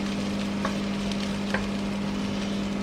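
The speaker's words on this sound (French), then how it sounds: "Pendant ce temps, j'ai les oignons qui sont en train de cuire." Sliced onions cooking slowly in a pan over very low heat, a steady, gentle sizzle with a constant low hum and a couple of soft clicks, no voices.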